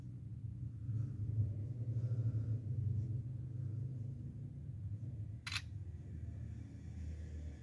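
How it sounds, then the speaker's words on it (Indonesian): The camera on a Realme 9 Pro 5G phone fires a single crisp shutter click about five seconds in, alone over a quiet low room rumble. "kemudian kita tes jepretan putunya"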